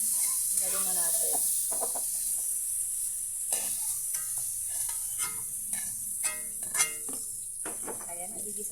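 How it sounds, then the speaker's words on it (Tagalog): Pork liver stir-frying in a home-kitchen pan for pork menudo, a steady close sizzle with scraping stirs and the occasional clink of utensil on metal, a voice speaking briefly over it. "Yung ating atay, i-stir fry din natin."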